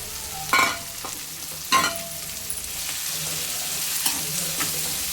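Chopped beans and carrots frying in a pan for semiya kichadi, with a steady close sizzle, two sharp stirring scrapes early on and a few lighter stirs later.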